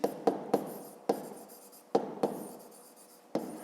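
Hand writing on paper, a pen scratching in short separate strokes with sharp taps between them, close and quiet, during a fifth-grade maths exercise.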